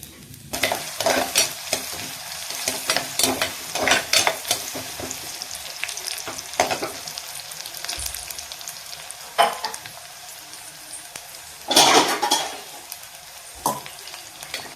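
Garlic fries in coconut oil for liver fry, a steady close sizzle with a spoon scraping and stirring the pan at irregular intervals, one louder hiss burst near the end.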